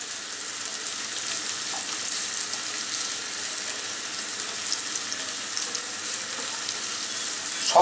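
Onions fry in a wok with a steady, even sizzle that stays close and moderately loud from start to finish, with no talking.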